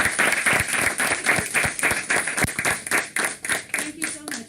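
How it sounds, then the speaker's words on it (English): An audience at a public education event on Indian Ocean tsunamis claps for the speakers, a steady patter of hands with a few sharp individual claps standing out, close and fairly loud throughout. "can we give a round of applause for everyone?"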